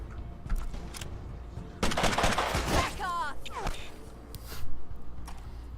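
Gunshots ring out at Chief Deadfinger in Mutant Year Zero, a burst of rapid fire and sharp cracks mid-clip with later single shots amid game effects, a brief voice-like sweep in between.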